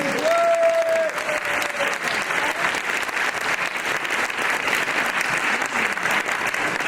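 An audience at a political campaign meeting in Rennes applauds a host being introduced, a sustained, evenly dense wash of clapping from a large crowd, continuous and steady for several seconds.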